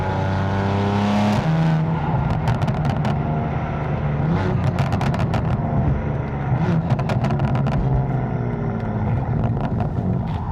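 A 2026 BMW M4 Competition xDrive with a catless exhaust roars through several gear shifts, the pitch dropping at each change, with sharp crackles and pops scattered across the loud drone.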